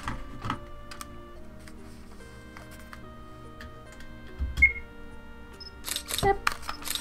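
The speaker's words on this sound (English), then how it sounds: "Jabez, that shutter noise is hella loud" In the video game I Am Dog, sharp camera shutter clicks sound at scattered moments over a quiet tonal game background, a couple of them louder and snappier than the rest.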